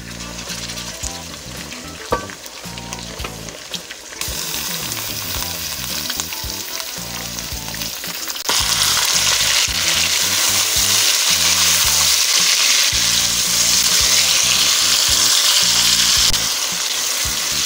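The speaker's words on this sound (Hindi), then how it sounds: "चिकन को ऑयल में अच्छी तरह से फ्राई कर लेंगे पहले हम।" Chicken frying in oil with garlic, a continuous loud close sizzle that grows stronger and denser partway through, with occasional stirring and no voices.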